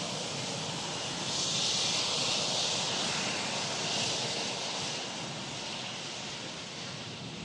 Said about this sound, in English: Atlas Air 747 in from Houston.